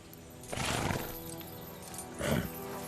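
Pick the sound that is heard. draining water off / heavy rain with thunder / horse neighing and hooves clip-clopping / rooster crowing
horse neighing and hooves clip-clopping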